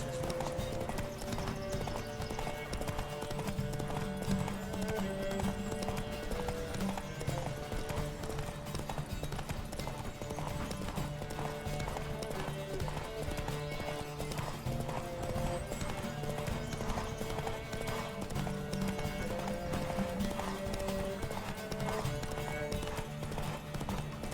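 Steady, rapid clip-clop of galloping horse hooves in The Witcher 3: Wild Hunt runs continuously throughout, with game music droning underneath and an occasional whinny.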